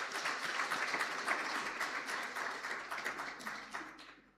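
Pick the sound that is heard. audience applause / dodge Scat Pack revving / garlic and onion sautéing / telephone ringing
audience applause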